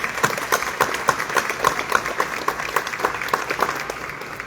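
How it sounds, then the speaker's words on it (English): Audience applause at the Blair County Courthouse clock tower rededication ceremony in Hollidaysburg, with distinct individual claps standing out from a moderate, fairly close crowd that holds steady throughout. "If we could give both of them an applause,"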